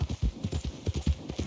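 Horse hooves clip-clop at a steady walking rhythm in Red Dead Redemption 2, a close, even string of soft thuds with no talk over them.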